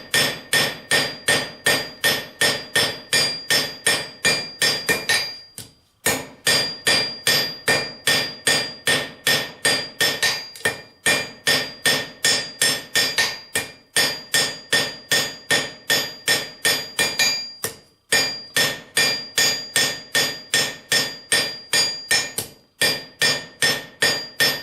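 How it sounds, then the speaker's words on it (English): A blacksmith hammers hot black iron to draw it out to a square point, ringing blows striking in fast steady runs with brief pauses between sets, loud and close. "So now we're going to start drawing this out to the point."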